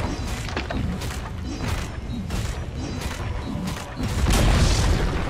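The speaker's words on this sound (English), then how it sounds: "Dire's bottom tower is crumbled to the dust" In Dota 2, a tower crumbles with a dense, rumbling crash of booms, creaks and thuds that continues throughout and swells louder toward the end, with battle noise mixed in.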